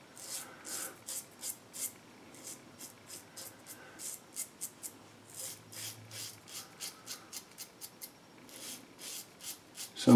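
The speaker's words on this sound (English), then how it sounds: "Oh, look at that, I'm shaving up" A razor scrapes in quick, rhythmic strokes, a steady series of short rasping passes that is close and fairly quiet, with a brief pause partway through before the strokes resume.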